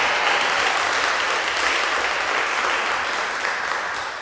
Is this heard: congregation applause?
yes